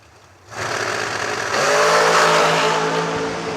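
A naturally aspirated dragster engine at a drag race fires up after half a second into a loud, sustained roar that climbs in pitch and intensity as it revs, close and dominant.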